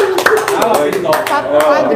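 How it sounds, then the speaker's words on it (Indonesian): A small group claps hands together in a short burst of uneven rhythmic claps close by, mixed with voices talking and laughing over it. "Tepuk tangan dulu."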